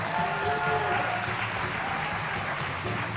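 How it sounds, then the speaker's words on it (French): Steady, dense applause from a French TV game show studio audience fills the whole stretch, continuous and fairly loud with no pauses. "je voudrais quand même qu'on applaudisse fort Yulia"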